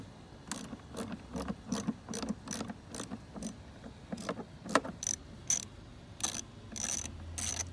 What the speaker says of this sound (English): you're gonna want to get your 7mm socket